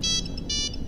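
A polyphonic mobile phone ringtone from the VR game Find My Mobile plays a bright, repeating electronic melody, loud and close with no talk.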